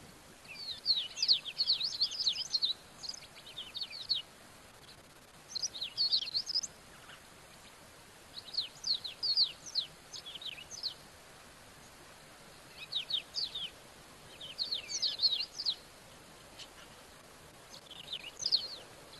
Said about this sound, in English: Can hear lots of birds.